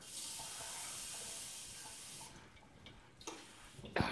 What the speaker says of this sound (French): si j'ouvre mon robinet à fond,